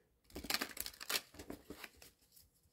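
Oracle cards being shuffled by hand, a few quick riffling, papery bursts close to the mic, soft and uneven with short pauses between passes.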